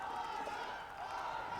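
Crowd at a CS:GO esports semifinal match, G2 versus Team Vitality, a dense steady roar of cheering filling the arena, loud and continuous with a voice faintly over it.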